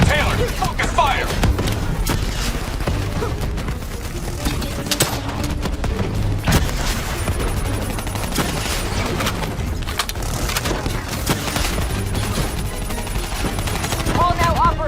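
Sustained gunfire from Call of Duty Black Ops III fills a busy battle scene, dense bursts and automatic fire layered over a constant roar, with voices calling out in the mix.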